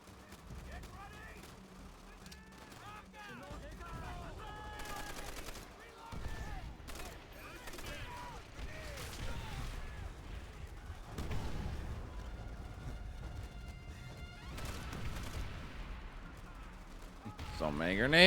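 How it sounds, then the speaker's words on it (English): Many grenades going off in a war video game, repeated bursts and crackling blasts scattered over the stretch, some in quick clusters, at moderate level with game sounds between. "So many grenades."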